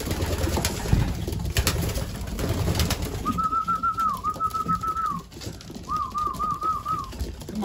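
Racing pigeons coo and warble close by against a busy outdoor background, with a clear whistling trill rising partway through and repeating after a short gap.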